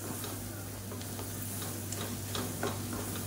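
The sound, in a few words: spices and Kashmiri chili powder frying in oil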